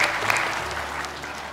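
Audience clapping for a Quran recitation judge on the Indonesian TV contest Hafiz Indonesia, a steady, fairly close wash of applause that fills the short moment and tapers slightly toward the end.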